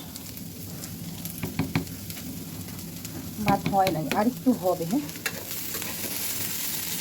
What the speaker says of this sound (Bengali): চেষ্টা করছি একটু লাল লাল করে ভাজার